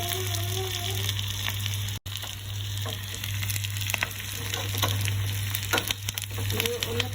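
Ginger sizzling in hot oil in a pan for Kerala-style fish curry, a continuous crackling fry with small stirring scrapes and a brief cut near the start.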